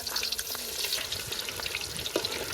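Fish sizzles and crackles steadily in hot oil in an outdoor cooking setting, a continuous loud frying hiss with small pops and no talk.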